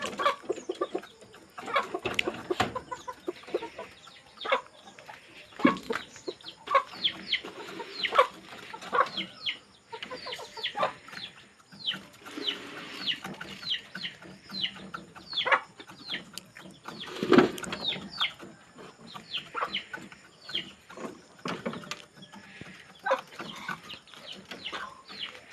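Chickens cluck steadily at morning feeding time, a busy flock close by with overlapping short calls and occasional louder squawks, no voices.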